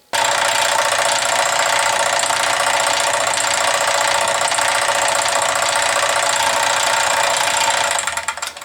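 A restored die filer runs at about 900 strokes per minute, giving off a loud, steady mechanical chatter and whine that holds level, then winds down at the end.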